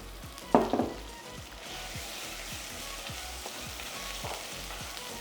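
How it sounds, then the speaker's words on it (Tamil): Crispy dried anchovies get mixed into sambal frying in a pan for nasi lemak, with a loud scrape or clatter near the start, then a steady sizzle and faint stirring taps throughout. "நல்லா கிறிஸ்பியாக இருக்கிற நெத்திலி கருவாடு அது எடுத்து இப்போது உள்ளே போட போகிறோம்"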